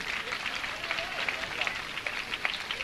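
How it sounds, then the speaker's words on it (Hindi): An audience at a Jain religious gathering claps steadily in a dense, crackling wash of applause that keeps going throughout, with a voice talking over it. "आप अपनी तालियों में उदारता में कमी मत आने दीजिए बंधु"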